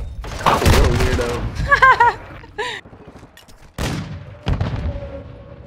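Gunfire bursts from a first-person shooter video game, sharp cracks and booms packed into the first few seconds, mixed with electronic game sounds and beeps, with a couple of later impacts.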